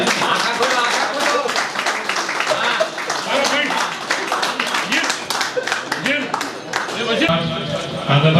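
A crowd at a cricket tournament gathering claps in a dense, lively patter that carries on for several seconds, loud and close, with voices talking throughout the applause.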